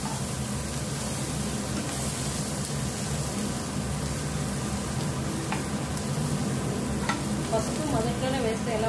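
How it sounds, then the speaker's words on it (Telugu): Chopped onions fry for a karela gravy curry, giving a steady close sizzle in the pan with occasional spatula scrapes and light clinks toward the end. "ఆనియన్ కొద్దిగా బాగా ఫ్రై అవ్వాలి."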